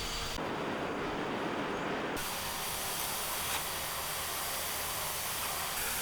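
Welding iron nails together for a forged knife, heard as a loud, steady, dense hiss and crackle with no pause, a brief shift in tone near the start, close up and with no voices.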